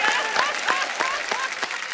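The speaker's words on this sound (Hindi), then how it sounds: "एक बार हमारी ऑडियंस के लिए भी ताली हो जाए।" A studio audience on a comedy talk show applauds; clapping rings out continuously while a voice speaks over it.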